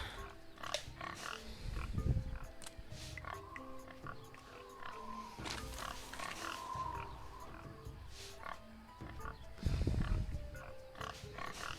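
Pig oinks in the jungle of the video game Tales of Monkey Island, with grunting bursts near the start and again toward the end amid a dense, busy jungle ambience of other animal calls and game music.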